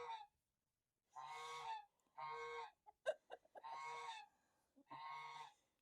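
New ducks on a homestead call out in loud, harsh honking bursts, five separate blasts spaced across a few seconds with some scattered clucks and rustles between them, close to the listener.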